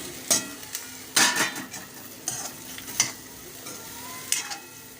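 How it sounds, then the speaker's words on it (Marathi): Okra being stir-fried with spices in a pan, with several distinct bursts of scraping and stirring over a low, steady sizzle, fairly close and without talk. "असं परतून घेते"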